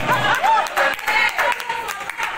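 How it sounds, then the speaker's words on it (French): An awards-ceremony audience applauds a prize-winning actress, the clapping steady but moderately soft beneath someone speaking over it throughout. "Merci de bien applaudir pour l'artiste, comme on dit si bien, bravo l'artiste"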